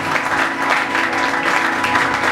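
A church congregation applauds loudly and continuously, a dense roar of clapping that surges in waves, with a faint steady hum underneath and no clear talking.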